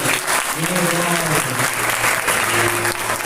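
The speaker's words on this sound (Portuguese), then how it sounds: "Palmas para Gabriel" Applause from a church congregation fills the space steadily and loudly, with a voice speaking over the clapping.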